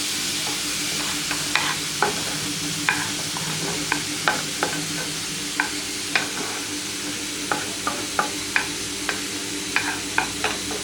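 Sliced onions fry in hot oil in a pan for chhola bhatura, browning to a deep red: a steady, close sizzle with frequent sharp clicks of a spatula stirring and scraping, no voices.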